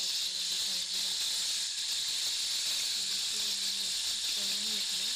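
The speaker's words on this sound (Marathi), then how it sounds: "हे कोळंबी थोडेसे फ्राय करून घ्यायचे आहेत आपल्याला" Prawns fry in hot oil with a steady, loud sizzling hiss, and someone talks softly underneath in places.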